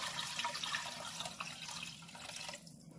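Vegetable broth pours into a soup pot in a soft, steady liquid splash that tapers off toward the end, faint and close.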